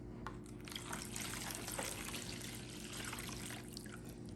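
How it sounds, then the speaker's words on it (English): Yeast and warm water are poured into a mixing bowl during home pretzel making, giving a soft, steady, faint trickle that runs for several seconds. "we're going to pour the yeast and the warm water into here"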